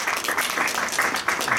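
An audience claps to welcome a lecturer at a medical talk, a dense, steady patter of many hands applauding through the whole stretch, fairly loud and even.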